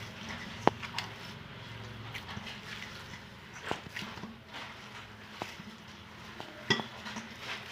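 Hands kneading parotta dough with oil on a plate, soft squelching and pressing with occasional sharp clinks of the plate, close and quiet, steady and irregular throughout.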